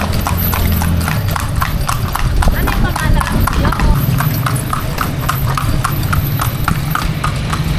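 A horse pulling a kalesa carriage in Ilocos clip-clops steadily and close by, hooves beating a regular rhythm on the road while people chat over it throughout.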